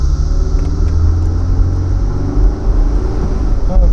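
A Honda S2000 AP2 engine droning while the car is driven on a highway, a loud, steady low rumble with road noise and slight rises in pitch near the end.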